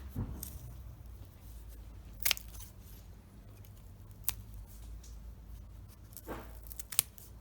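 Scissors snipping open a flood-damaged greenhouse plant root, giving a few sharp isolated clicks and snips spaced seconds apart over a low background rumble.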